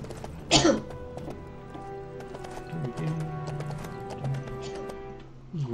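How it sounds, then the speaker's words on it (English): Hoofbeats of a horse clip-clop in a quick rhythm in the LEGO Lord of the Rings video game, with a loud whinny early on, all over layered orchestral game music. "It's a solid horse."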